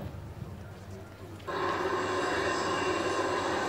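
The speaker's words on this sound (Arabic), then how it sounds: "حضراتكم زي ما انتم شايفين كده ده مترو انفاق" An underground metro train rumbles faintly, then a loud, steady rushing roar kicks in suddenly and holds at close range.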